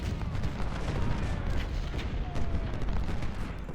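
Continuous rumbling artillery fire in Ultimate General: Civil War, a dense roar of overlapping distant booms and musketry forming a steady, loud battle din with no clear pauses, no talk.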